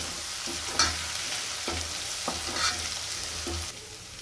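Ginger, green chili and garlic sautéing in a pan for a Gujarati vagharelo rotlo, a close, continuous hissing sizzle broken by a few spaced stirring clinks and scrapes, no voices.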